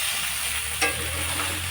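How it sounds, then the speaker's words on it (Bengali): Potato and cauliflower fry in a pan with a dense, continuous sizzle, with one brief utensil clack partway through. "আলুটা আগে ফুলকপির আলু হালকা করে ভেজে নিই"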